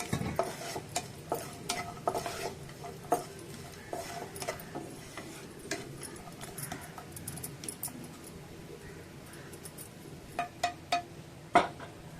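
Dried coconut roasts in a little oil in a pan, heard as quiet, close stirring with intermittent metallic clinks and scrapes over a faint sizzle.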